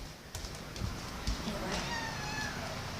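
A young house kitten meows a few times indoors, soft and fairly close, with faint household background noise underneath.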